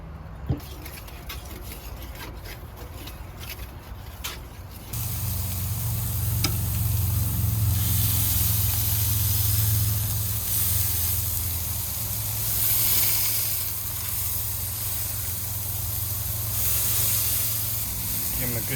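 Food cooks in olive oil in a hot pan: a quieter hiss at first, then a sudden loud, steady sizzle after about five seconds that continues, swelling slightly, to the end.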